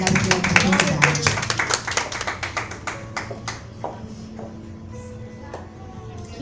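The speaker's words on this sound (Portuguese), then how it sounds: "Vamos aplaudir a Deus." Church congregation clapping together, a dense burst of many hands that is loud at first and then thins out and fades toward the end, with voices heard under the applause.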